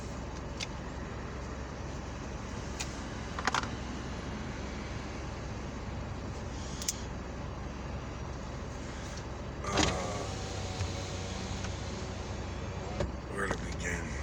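Steady road and engine rumble inside a moving car, a low continuous drone with a few brief clicks and thumps from the cabin, fairly quiet throughout.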